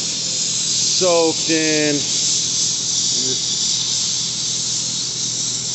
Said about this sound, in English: spray a whole can of carb cleaner all up in the sides